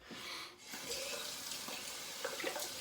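Water runs steadily from a tap, rinsing off after a head shave with a LEAF razor, a continuous close splashing hiss with no voices.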